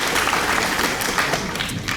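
Brief burst of steady audience applause in a high school awards ceremony hall, dense and continuous over a couple of seconds.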